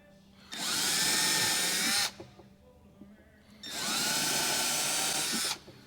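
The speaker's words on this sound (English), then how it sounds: "Get your little drill again." A small power drill bores holes into a wooden beehive box, two loud sustained whirring bursts of about one and a half seconds each, separated by a short quiet pause, close by.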